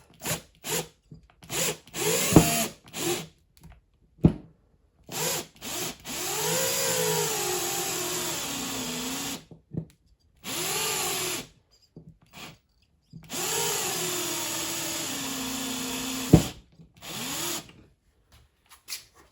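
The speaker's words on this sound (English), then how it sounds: "Of course, my drill battery is dying." A cordless drill with a dying battery whirs in repeated bursts while a shelf is fitted, its pitch sagging and slowing toward the end of each run, separated by clicks, handling noise and short pauses.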